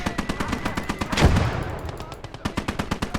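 Enemy gun fire in the wartime strategy game Legion of the Damned: rapid machine-gun bursts rattle steadily, with a heavier blast partway through that rings out and fades while the chatter of shots continues.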